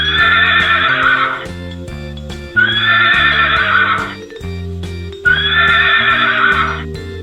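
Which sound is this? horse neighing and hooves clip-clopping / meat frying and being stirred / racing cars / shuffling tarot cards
horse neighing and hooves clip-clopping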